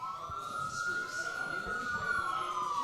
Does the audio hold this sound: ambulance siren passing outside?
yes